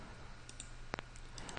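A computer mouse gives a quick double click on an OK button while working in CAD software, faint and close, with a low hum and a few tiny ticks around it.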